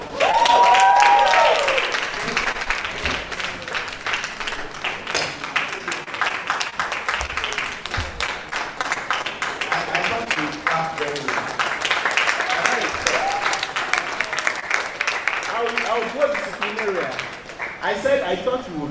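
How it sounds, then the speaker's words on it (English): An audience at a university project-writing workshop applauds steadily for nearly twenty seconds, a dense, continuous patter of many hands clapping, with a voice heard briefly near the end. "Clap very well."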